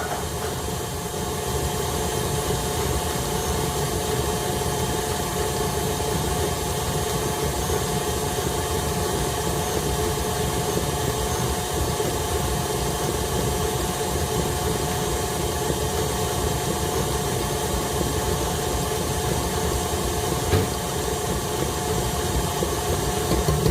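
Electric mixer running at a higher speed while mixing pie dough for a cherry pie, producing a loud, steady motor whine and hum that stays constant throughout without talking.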